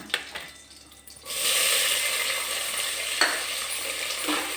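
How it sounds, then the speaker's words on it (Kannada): Onions dropped into hot oil burst into a loud, steady sizzle after a couple of quiet spoon taps, then keep frying with a few stirring scrapes. "ಇದು ಎಣ್ಣೆ ಕಾದಿದ್ರಿಂದ ಇದಕ್ಕೆ ನಾವು ಫಸ್ಟ್ ಈಗ ಈರುಳ್ಳಿ ಹಾಕ್ಕೊಳ್ಳೋಣ."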